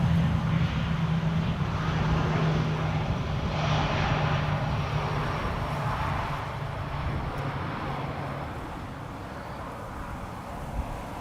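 A KLM Embraer jet passes along the central runway, its engine roar a broad, steady rush that slowly fades over several seconds, heard from a distance in gusty crosswind conditions.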